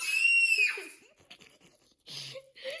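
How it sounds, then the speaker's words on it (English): A girl screams loudly and shrilly at the start of the recording, holding a high, wavering pitch for under a second before breaking off, followed by quieter rustling and a brief voice at the end. "why did you have to scream?"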